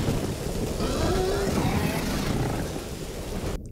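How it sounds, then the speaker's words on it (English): Heavy rain and thunderstorm from the TV show House of the Dragon, a dense, continuous wash of downpour with a deep rumbling undertone, loud and steady before cutting off abruptly at the end. "they're in the middle of a storm"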